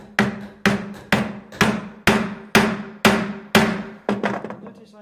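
A mallet strikes a chisel firmly while cutting a mortise in wood, landing about nine sharp, evenly spaced blows, each with a short ringing decay and some quicker taps at the end.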